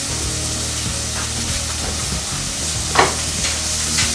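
Two tablespoons of butter melting in a hot skillet beside cooking potatoes, giving a loud steady hiss and sizzle with a few soft scrapes.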